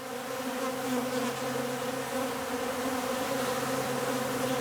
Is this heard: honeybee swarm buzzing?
yes